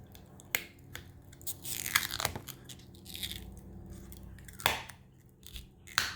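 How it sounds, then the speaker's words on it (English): Rubbery Plasti Dip coating is slowly peeled off the body of a 2019 Mustang GT Premium, giving close, irregular crackling and tearing bursts with sharp snaps, heard alone without talk. "Then just slowly start peeling."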